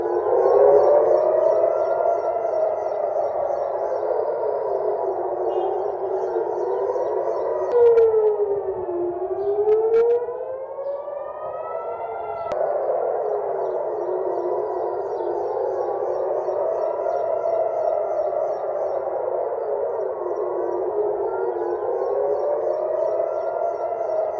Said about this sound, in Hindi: ये जो सायरन की आवाज जो सुनिए आप, ये तेल अवीव की तस्वीर है